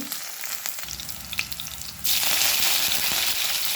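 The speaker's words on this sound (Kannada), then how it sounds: "ಈಗ ಮೊದಲಿಗೆ ನಾನು ಸಾಸಿವೆ ಹಾಕ್ಕೊಡ್ತೇನೆ ಬೆಳ್ಳುಳ್ಳಿ" Mustard seeds and garlic hit hot oil for a fenugreek-leaf palya. A low sizzle jumps halfway through into a loud, dense, steady crackle.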